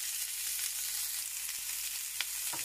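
Chicken spaghetti ingredients fry gently in a pan, giving a steady, even hiss with a couple of faint taps from a utensil, quiet and unbroken, with no talking.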